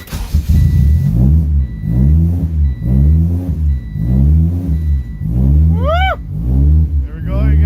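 A turbocharged Honda D16Z6 engine revs repeatedly, each throttle blip rising and falling in a regular rhythm with a deep rumble, loud and close, and a short whistle-like sweep near the end.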